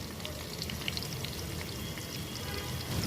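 Two ripe tomatoes hit plenty of hot oil alongside chopped onion and green chillies, giving a steady, close, crackling sizzle with scattered sharp pops throughout.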